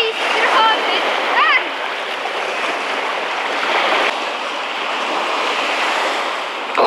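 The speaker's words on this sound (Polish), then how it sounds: "witamy z plaży" Surf washing onto a Baltic Sea beach under strong wind, a loud, constant roar with heavy gusts buffeting the microphone and brief voices audible early on.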